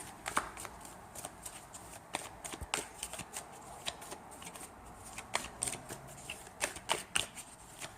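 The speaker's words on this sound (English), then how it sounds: "I'm going to shuffle and take out a couple more cards" Tarot cards being shuffled up close: a steady run of crisp riffling snaps and soft slaps, irregular but continuous, with no voices.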